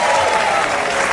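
A television studio audience applauds in a dense, steady burst of clapping, loud and continuous for about a second.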